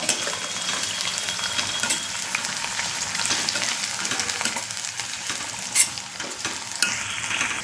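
Onion frying in a pan for a Palghar-style creek clam curry, a steady sizzle with stirring scrapes running throughout, fairly close, with no talking.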